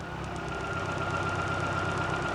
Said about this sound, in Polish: Silnik nierówno pracuje, zobaczcie.